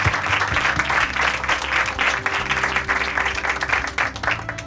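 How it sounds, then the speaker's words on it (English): An outdoor crowd at a park groundbreaking ceremony in Woodland applauds Rotary with dense, sustained clapping, with a low steady hum running underneath throughout. "So let's give Rotary a round of applause today."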